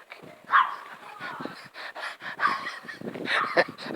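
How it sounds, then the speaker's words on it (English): Small dog panting with short yips and barks at close range, in uneven bursts, with people talking nearby. "Nice dog."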